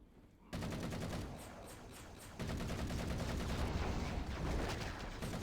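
Assault rifle fire in the Halo MCC game, a sustained rapid burst of automatic shots hammering on for several seconds with a brief shift partway through, loud and continuous.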